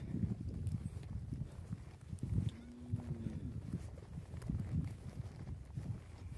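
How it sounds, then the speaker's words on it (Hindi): A horse with its foal moving outdoors near a cricket game and tents, hooves clip-clopping in a loose, steady rhythm at moderate distance amid broadband outdoor noise. "ये मेरे सामने बहुत ही खूबसूरत कलर का घोड़ा"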